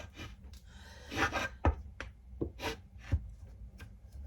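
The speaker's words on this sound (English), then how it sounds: "And then we're going to scrape it out of the bowl." Dough for croissants is scraped out of a mixing bowl, producing a series of short rubbing and scraping strokes, close and irregular, with no voices.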